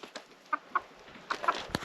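Domestic hens clucking near a stone-wall cabin renovation, a string of short irregular clucks and squawks, close and fairly loud against a quiet yard.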